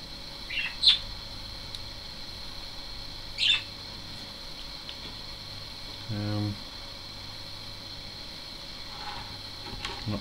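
A pet budgie gives two brief, faint chirps a few seconds apart over steady background hiss, with a short low buzz between them.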